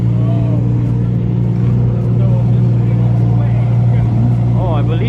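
A twin-turbo Lamborghini at an exotic car meet, its engine starting and settling into a loud, steady idle close by, with people talking nearby.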